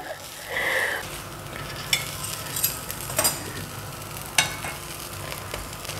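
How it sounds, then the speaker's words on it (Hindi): Bathua paratha cooking in mustard oil on a pan over a medium flame, a steady near sizzle with a few light clicks and taps of a utensil. "मीडियम फ्लेम पे सेकना है जिससे कि ये अंदर तक बिल्कुल अच्छे से सिक सके।"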